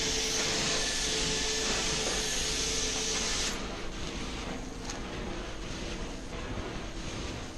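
Carpet steam cleaning extraction machine making a wet pass, a loud steady roaring whoosh that drops to a lower, rougher drone partway through, with no talking.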